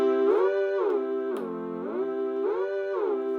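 A sustained synth tone on a Yamaha PSR-6300 keyboard with notes that repeatedly bend up a fifth and glide back down, clear and steady with no talking.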